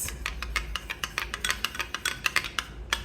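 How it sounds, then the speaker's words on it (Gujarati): Metal spoon clinks and scrapes around a pan as pepper, cumin and black salt powders are stirred together for a chana masala chaat, a quick run of soft, close, rhythmic taps and rubs with no talking. "આ મસાલાને આપણે કરી નાખશું મિક્સ"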